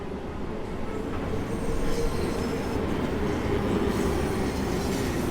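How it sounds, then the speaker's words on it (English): A London Underground train in the video game Train Sim World rumbles steadily into a station, a continuous loud roar of wheels on rails with faint squealing, no voices. "Watching a train come in, is that alright?"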